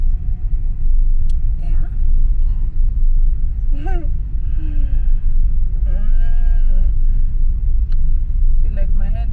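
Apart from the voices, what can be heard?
car engine rumble while driving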